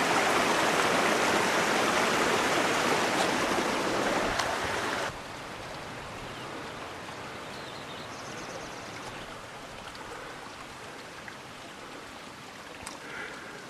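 A small feeder creek flows on a hiking trail with a steady, close rushing and trickling of water. It starts loud, then drops to a quieter, even burble partway through, with no talking.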